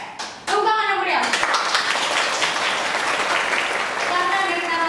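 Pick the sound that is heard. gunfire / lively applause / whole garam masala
lively applause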